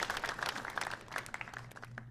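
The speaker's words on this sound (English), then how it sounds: "Please give her a round of applause." Faint, sparse clapping from a small audience greeting the Bellator women's flyweight world champion, individual claps audible at low volume.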